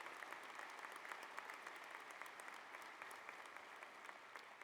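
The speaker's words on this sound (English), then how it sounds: "give her another really big round of applause" Applause at a graduation ceremony: steady, sustained clapping from a large audience, even and continuous throughout, heard faint and at a distance.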